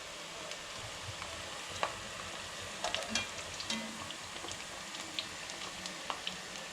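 Potatoes frying in hot oil for Sindhi aloo tuk, a steady soft sizzle with scattered small pops and crackles, fairly faint and unbroken throughout, no voices.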